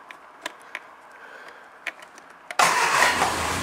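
A car engine fires up for its first start after an engine swap, with choke applied: a few faint clicks, then the engine suddenly catches and settles into a loud, steady, rough run.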